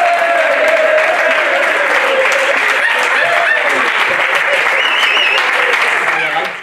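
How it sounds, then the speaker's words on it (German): Sustained applause from a crowd at a summer football training camp event, greeting former player Mario Basler, dense steady clapping at close range with voices mixed in, fading out at the very end. "Bitte um Applaus für Mario Basler."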